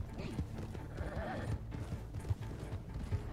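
Horses galloping in a Red Dead Redemption roleplay game, a steady run of close, heavy hoof clip-clops in quick rhythm with a brief whinny, under a continuous low rumble.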